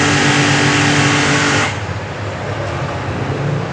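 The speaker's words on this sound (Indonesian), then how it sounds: "Ambil blower yang wireless." A wireless blower blasts air across a motorcycle, a loud, hissing broadband rush that cuts off abruptly partway through and leaves a lower, rougher background whir.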